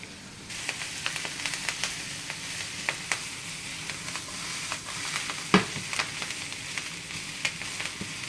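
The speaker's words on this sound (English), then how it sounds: "So we'll throw the kale in there now. It looks like a lot, but it's going to cook down" Kale sizzles as it wilts down in a hot pan, a constant frying crackle close by with regular light stirring taps and one sharper clatter partway through.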